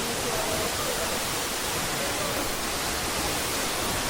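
Kansusu Falls waterfall, reached on an offroad trip, pours as a steady broadband roar of rushing water that fills the whole clip without a break, loud and close, with no voices over it.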